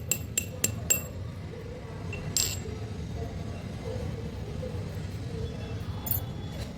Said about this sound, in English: I'm still tapping and tapping, and it's not going to it